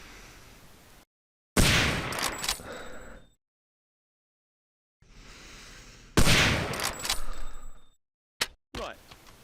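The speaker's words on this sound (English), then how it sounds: "This is the Browning machine gun." A Browning machine gun fires in the video game Hidden and Dangerous 2, two loud close bursts of rapid shots separated by silence, with a short extra burst near the end.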